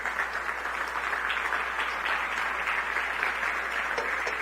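A church congregation applauds during an evening Sunday service, a dense, even wash of clapping that keeps going at a moderate level throughout.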